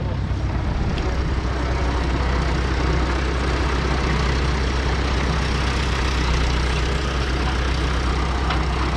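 Farm tractor idling at a fish-farming site: a constant low engine drone with a steady hum beneath a wash of broadband noise, even and unbroken for the whole stretch, with no talking.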